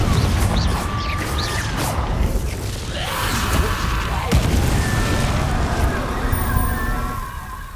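Confringo blasting spells burst repeatedly in the Hogwarts Legacy video game, loud booming explosions layered over dense, continuous game sound with a crashing hit partway through.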